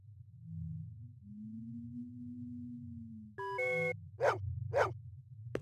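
A dog in the video game Blade Runner gives a few short barks near the end, after a low hum and some electronic beeping tones.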